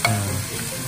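Wagyu beef sears in a hot pan, giving off a brief, close and loud sizzle with a stirring scrape at the start.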